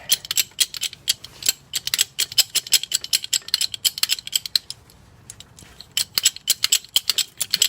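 A bottle-style transmission jack being pumped up under a ZJ with a 5.2L engine and 46RH transmission, giving a steady run of sharp metallic ratcheting clicks in close rhythmic bursts, with a short pause near the middle.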